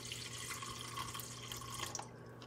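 Water runs steadily into a cooking pot on a kitchen counter while a Super Bowl seafood feast is being prepared, producing a continuous close splashing and trickling with small drips and no voices.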